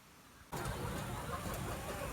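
A vehicle engine moving a poultry eggmobile starts up abruptly after a quiet moment, then runs steadily at a mid-pitched rumble close by.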